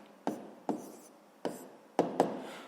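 Pen strokes writing out a sixth-grade math solution, five distinct scratchy taps and strokes spaced irregularly, close and fairly quiet with no voices.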